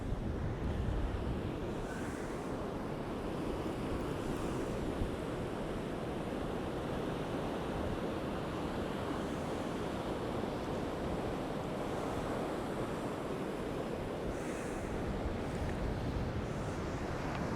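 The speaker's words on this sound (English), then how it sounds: "Yeah, so the waves are popping the leads." Surf rolling onto a shingle-and-sand beach on the Holderness Coast during beach casting, a steady, loud wash of breaking waves with wind buffeting the microphone, continuous throughout with no talk.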